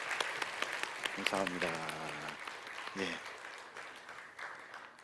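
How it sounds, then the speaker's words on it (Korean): A church congregation claps in welcome for a newly introduced member during a Christmas thanksgiving service. The applause is moderate and scattered, with someone speaking and a voice singing or intoning over it. "우리 환영의 박수 한번 하겠습니다"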